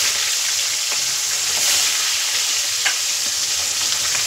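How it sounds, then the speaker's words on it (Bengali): Three small hilsa fish heads fry in smoking-hot oil with a dense, even crackling sizzle, close up, and a few faint spoon taps come through without any speech. "এখন ইলিশ মাছের মাথাগুলো ভেজে নেব"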